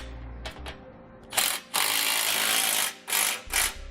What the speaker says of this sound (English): with both those bolts and nuts in place, we'll now tighten them down